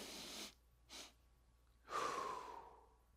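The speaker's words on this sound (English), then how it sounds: "So you do a double inhale." Two short, quick inhales as part of an anxiety breathing exercise called the double pump, followed by a longer, louder exhale, heard up close with no talking.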